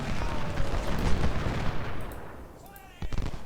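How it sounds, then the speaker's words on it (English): Booming 10-pounder artillery bombardment in the Ultimate General: Civil War battle game, a rumbling volley that fades, then another heavy report near the end. "Our 10-pounders are opening up their bombardment"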